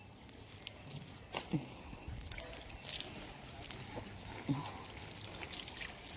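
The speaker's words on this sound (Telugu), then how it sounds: "చెట్లకు నీళ్ళు పడుతున్నాను" A garden hose left running onto plants gives a continuous soft trickling and splashing of water, moderately close, with brief clatters and faint background noise throughout.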